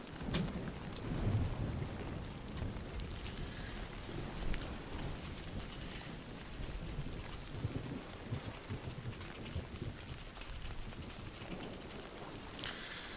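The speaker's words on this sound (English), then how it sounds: "This rain looks really good. I've not seen many games pull rain off." Steady rain with rumbling thunder in the video game Warframe, a continuous wash of downpour and low rolls of thunder throughout, with no talking.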